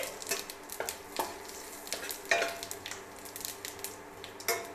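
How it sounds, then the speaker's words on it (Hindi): Cumin seeds, bay leaf and dried red chillies fry in hot oil with a steady close sizzle, broken by frequent light scraping and stirring knocks from a spoon in the pan, with no voices. "जीरा, तेज़पत्ता, सूखा मिर्च फ्राई हो गया है"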